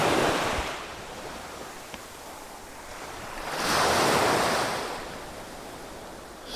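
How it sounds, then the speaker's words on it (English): Waves wash onto a secluded white sand beach on Siquijor island, with a steady rush of surf and one louder breaking swell that rises and fades midway, mixed with wind noise. "For me, it's a very beautiful beach"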